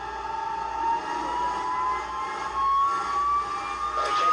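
A De Havilland Vampire jet taxiing, its engine giving a steady loud whine with rising tonal pitch and a continuous roar, no voices present.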